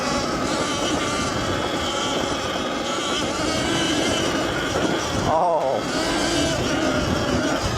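An Extreme Wheel ES 88V electric dirt bike rides off road, making a steady, close whirring drone with rushing wind and tire noise throughout, dipping briefly midway before resuming.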